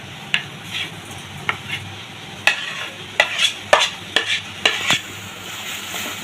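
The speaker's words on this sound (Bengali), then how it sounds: "এখানে ছানাটা দিয়ে দেবো।" Chhana (cottage cheese) being stirred in a wok with a little water, spoiled sweets reworked at home: a spatula scrapes in sharp, irregular strokes over a soft background sizzle, roughly ten distinct scrapes with no talking.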